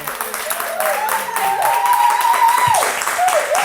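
Audience applause at the close of an interview show episode, steady clapping from a crowd with a voice talking over it throughout.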